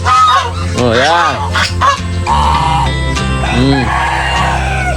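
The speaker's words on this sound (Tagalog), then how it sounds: "yung aking mga gansa, nag-iiyakan." Farmyard geese honk loudly and close by in a rural orchard setting, several overlapping nasal calls rising and falling in bursts, with what may be a rooster crowing mixed in.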